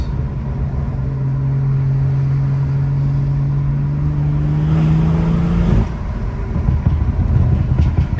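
A tuned BMW 440i Gran Coupe at full throttle, its engine note climbing steadily and loud from inside the cabin, then a downshift with a quick rev change and continued strong engine roar.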